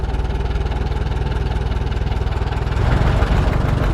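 A 1949 JI Case LA tractor engine runs steadily with a loud, close, even chugging beat that thickens and grows slightly heavier near the end.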